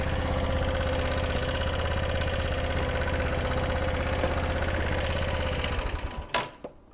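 A Lexmoto Venom 125 motorbike engine idles with a steady, close mechanical rhythm as the clutch is eased out, holding evenly before the sound drops off abruptly near the end with a short clunk.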